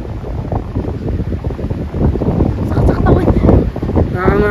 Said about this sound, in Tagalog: Nakangawit yan, lalabanan mo yung hangin.